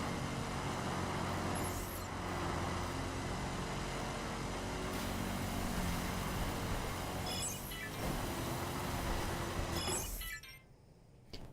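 Loud, continuous engine roar and tire noise from a car in a drift event in the video game Wild Run, with brief sharp screeching bursts and a sudden drop-off near the end.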